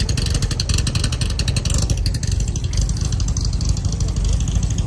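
A Dodge Hellcat engine idles with a loud, lumpy rumble, steady and close, its pulsing beat continuing throughout.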